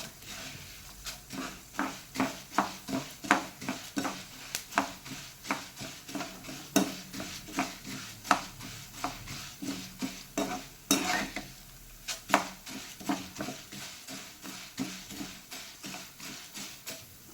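Dry lentils being roasted in a pan for Udupi-style sambar powder, stirred with a large spoon: steady rhythmic scraping and rattling strokes close by, with faint sizzling, no talk.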